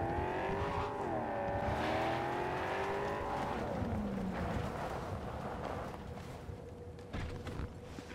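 A car driven in the video game Cyberpunk 2077 accelerates with a rising, wavering engine whine that peaks early, then settles into a steadier drone of driving, with a short squeal-like slide midway and no speech.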